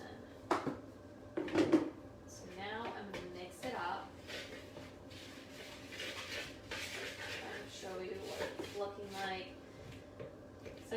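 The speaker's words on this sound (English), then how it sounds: "So now I'm going to mix it up." A spoon mixes nut butter recipe ingredients with a dash of cinnamon in a bowl, giving soft scraping and knocking clatter with a couple of louder clinks early, continuing steadily throughout.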